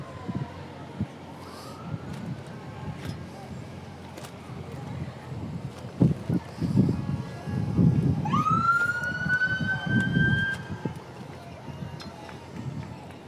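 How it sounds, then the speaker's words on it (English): Big Lake Fire and Rescue four-wheeler in a Spud Fest parade, its siren whooping briefly early on, then rising into a louder wail midway over crowd noise and an announcer talking. "And it looks like we got the Big Lake Fire and Rescue four-wheeler."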